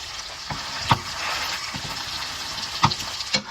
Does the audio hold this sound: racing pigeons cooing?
no